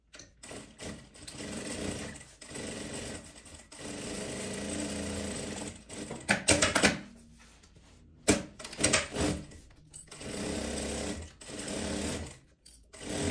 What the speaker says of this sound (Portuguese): Costurar com a marca de um pezinho de máquina